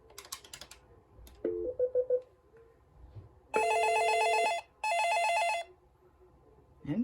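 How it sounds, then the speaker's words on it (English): A landline telephone placing an outgoing call: a few dial tones, then two long loud electronic ring bursts separated by a short pause, heard close with brief clicks around them. "Well, we're doing an outgoing call."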